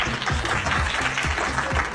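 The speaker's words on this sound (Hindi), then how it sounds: "जेदा के लिए तालियां हो जाएं" A crowd at an indoor party gives a short burst of steady, dense applause with many hands clapping at once.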